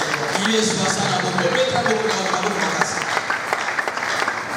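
A church congregation at a prayer service claps and cheers for the king, with sustained applause and scattered shouts filling the space and a voice carrying over the crowd.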